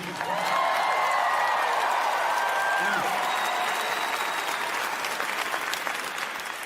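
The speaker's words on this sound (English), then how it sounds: "You guys are clapping, but he's not leaving." Steady applause from a large stand-up comedy audience, a continuous wash of clapping that holds for several seconds and slowly eases, with no voices over it.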